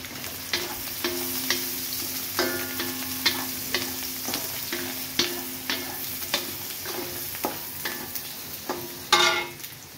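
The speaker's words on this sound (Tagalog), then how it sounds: "Ngayon, i-mix na natin." Laing ingredients are stirred in a cooking pot with steady sizzling underneath, and a spoon knocks and scrapes the pot in an irregular rhythm, close and fairly clear, with no talking.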